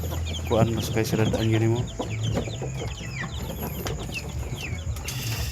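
Shamo gamefowl chickens on a farm cluck and call repeatedly, with other bird chirps around them, while a person talks over the birds throughout.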